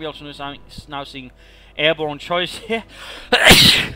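Someone commentates on a Company of Heroes 2 match, then a single sharp, loud sneeze bursts out right after his words.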